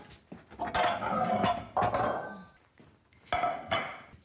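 A large plate and other dishes handled in a home kitchen, with several distinct clattering clinks of ceramic and cutlery, spaced irregularly, close and fairly soft, without talk.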